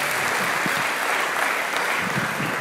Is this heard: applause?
yes